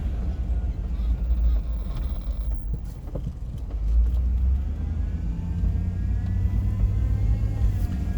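Chevrolet Tahoe SUV driving through hurricane-damaged streets, a low rumbling road and engine noise inside the cabin with occasional creaks and knocks, steady and moderately quiet throughout.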